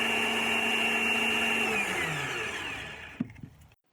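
A power drill bores a hole through a wooden panel, its steady, close motor whine running for about two seconds before winding down in pitch and stopping, followed by a couple of soft knocks.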